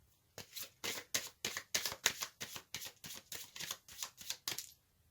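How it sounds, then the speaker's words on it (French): Tarot cards riffled and shuffled in a rapid run of about a dozen crisp, papery bursts, close and fairly loud, with no talking, ending as the last card is drawn out of the deck. "Je vais tirer une carte supplémentaire pour avoir un message complémentaire."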